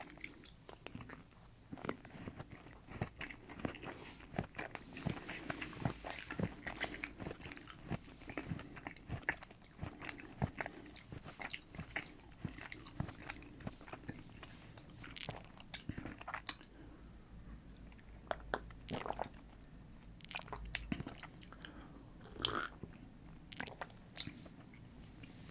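Close, quiet bites and steady crunching of tiny morsels of quadruple chocolate cake dessert, with irregular chewing and soft squishy mouth sounds continuing throughout, no talking.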